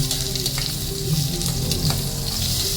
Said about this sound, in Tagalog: Lagay na natin yung ating luya.